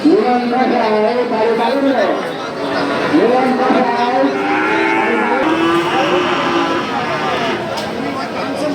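Sahiwal and Nepali bulls and calves at a busy cattle market low and moo in long, overlapping calls, close and loud, over steady crowd chatter.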